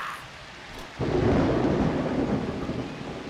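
Rain and thunder in the fantasy football game Blood Bowl 2: a faint rainy hiss, then a sudden deep rumble of thunder swells in and rolls on steadily over continuous rainfall, with no voices.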